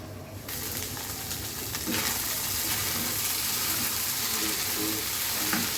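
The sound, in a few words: frying goat brain in oil with salt and turmeric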